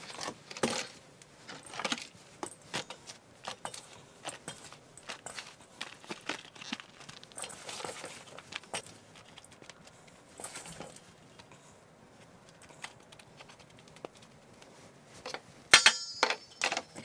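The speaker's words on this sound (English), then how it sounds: "then I will fill the container with soil. It's just going to be regular potting mix" Regular potting mix being scooped and poured into a seed-starting container for onions: soft crumbly rustling and patting in scattered bursts, close by, with a brief louder rattle near the end and no talking.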